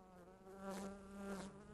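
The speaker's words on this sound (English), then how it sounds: "Yo, it's a wasp." A wasp buzzes in the video game Dead Rising 3 with a steady, close droning hum that swells twice, heard alone.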